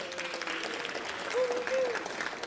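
Audience applause for sponsors at the Los Angeles County Quality and Productivity Awards, a steady moderate wash of clapping running through, with a voice briefly carrying over it.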